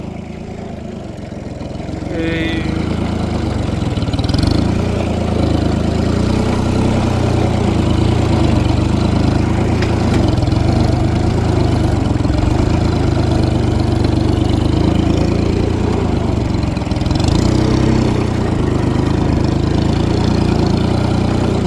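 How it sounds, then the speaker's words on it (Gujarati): A tractor engine runs steadily through a muddy, rain-soaked farm field, a loud, continuous low rumble that swells slightly after the first couple of seconds and holds at an even drone. "ટ્રેક્ટર જશે કે નહીં જાય જોઈએ આપણે ધીમે ધીમે ટ્રાય કરી જવા દેવાનો"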